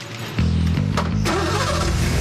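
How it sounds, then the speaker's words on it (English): A rare fastback car's engine catches and settles into a loud, steady, close-up rumble after a brief quiet start, with no one talking. "We finally got the engine running."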